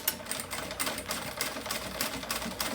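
A sewing machine stitching the two glued ends of a synthetic leather strap together for a tote bag, running in short rapid bursts of mechanical clatter with brief pauses, close and alone.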